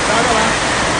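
Heavy morning rain pours down in Jaguaquara, Bahia, a dense, steady roar of water filling the whole clip, loud and close, with street flooding nearby.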